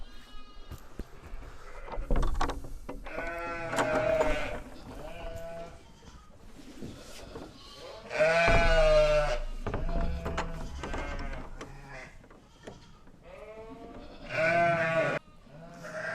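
Lambs and sheep bleat in a barn pen, several bursts of bleating from young and adult animals, some close and loud, others softer, spread across a quiet, low background.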